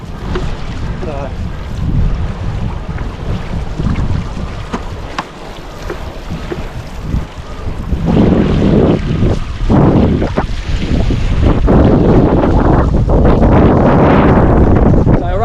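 Steady wind roar and water rush while riding a wing foil downwind off the Gold Coast near Currumbin, on a titanium fuselage with a 68 cm setup, loud and constant throughout and rising in the second half with splashy bursts.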